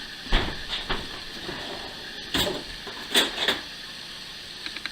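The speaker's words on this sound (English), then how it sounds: "I got, see what's in the drawer, hang on." Quiet clatter and scraping of utensils as a kitchen drawer is rummaged through for a knife, a few short knocks and rattles spread over several seconds against a low hiss.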